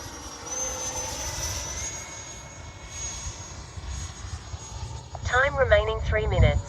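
A Freewing F-22 80mm EDF RC jet whines at half throttle, a steady high ducted-fan tone with a faint low rumble, while someone speaks briefly near the end.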